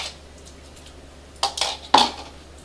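Spoon scraping and clinking against a bowl while a tomato paste, garlic, chopped basil and sun-dried tomato marinade is mixed, a few quick close scrapes after a quiet start.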